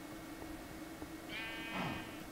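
Sheep bleating on a farm in a video game, a single drawn-out bleat rising over a steady low game hum, fairly close and with no talk over it.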